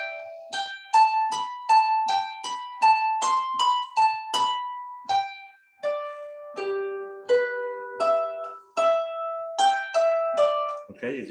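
A harp plays a repeated four-measure phrase in a class setting, clear plucked notes ringing in a steady rhythm, close and alone with no talk.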